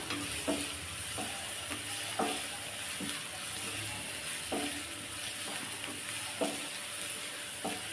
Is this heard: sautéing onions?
yes